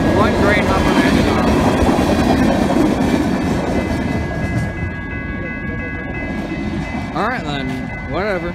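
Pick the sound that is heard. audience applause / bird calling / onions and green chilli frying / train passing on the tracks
train passing on the tracks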